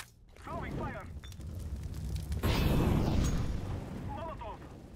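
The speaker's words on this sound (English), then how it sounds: "Throwing fire." A thrown Molotov bursts into flame in CS:GO on de_mirage. A soft rumble builds into a loud, broad roar of fire midway, with voices speaking over it at the start and end.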